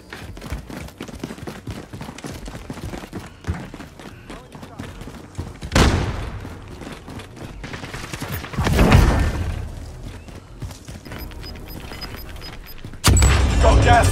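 Submachine gun fire in the Warzone battle royale shooter comes in a few loud, harsh bursts spread across busy game noise, with a final burst cutting in at the end.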